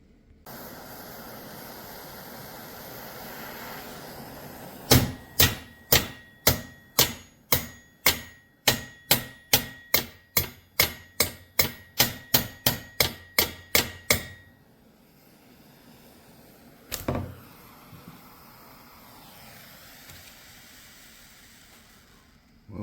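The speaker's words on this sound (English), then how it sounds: "now I'm going to heat these tabs up and just hammer them around" Heated metal tabs on a homemade trebuchet built from an inversion table are hammered with a rapid, regular run of about twenty sharp ringing blows, then one more strike after a pause, loud and close over faint background hiss.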